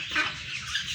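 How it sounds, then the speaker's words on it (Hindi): A hen, recently ill, gives a brief, soft cluck nearby, a short throaty call over quiet background. "ये वही वाली मुर्गी है जो उस दिन बीमार हुई थी।"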